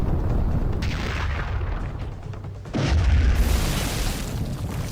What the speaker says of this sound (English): I like how we just find a loaded rocket launcher ready to go.